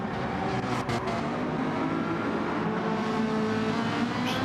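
A race car engine revs hard through a hairpin bend, its loud, steady drone rising and falling on the exit with no voices.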